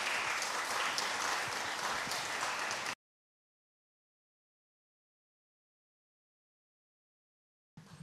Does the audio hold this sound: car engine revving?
no